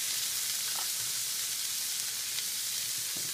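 Garlic sizzles steadily in a hot pan with bell peppers, a continuous close frying hiss with a few faint stirring clicks and no talk.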